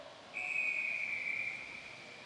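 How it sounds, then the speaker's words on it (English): A referee's whistle blows to start an elite men's track cycling race, one sustained shrill blast just over a second long, fairly clear above a quiet background. "The whistle blows and we're underway."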